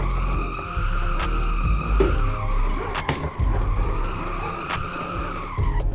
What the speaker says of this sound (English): Drifting on a steering wheel is so crazy, bro.